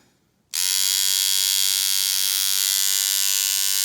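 A Mojoslider tattoo machine switches on abruptly and runs with a loud, steady, high-pitched electric buzz that holds evenly to the end, hitting sharp.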